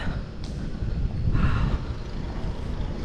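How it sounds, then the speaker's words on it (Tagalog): Low, gusty rumble of strong, cold wind buffeting the microphone outdoors in Pantabangan, swelling midway and steady throughout, with a faint high sweep near the start and no talking. "Ang lakas ng hangin, ang lamig."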